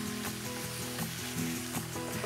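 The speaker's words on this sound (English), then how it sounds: "Now I'm going to add in my garlic and saute this for about another minute." Garlic sautés in a pan alongside cooking potatoes for shepherd's pie, a dense, continuous sizzle and crackle, close and fairly loud, with faint stirring scrapes and a steady underlying hum.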